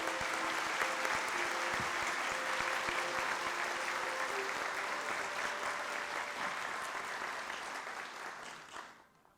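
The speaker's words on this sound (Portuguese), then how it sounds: "Uma salva de palmas a todos." An audience at a university leadership inauguration ceremony claps steadily and loudly for several seconds before the applause fades out.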